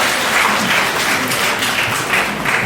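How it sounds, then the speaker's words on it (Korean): Wedding guests in a convention hall in Chungju applaud warmly after the father's speech, a continuous, even patter of many hands clapping at close range. "자, 여러분들 큰 박수로 부니다"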